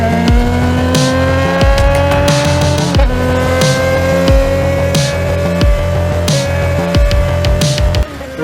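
A cartoon car driving off at a railway station: a loud, steady engine drone with repeated rising revving sweeps and faint squeal-like highs, continuous and close for several seconds without speech.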